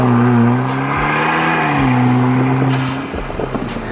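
A 2021 Vanderhall car engine revs, its tone rising and falling in a smooth, loud, close sweep, then settles into a rougher, choppier exhaust burble at the end.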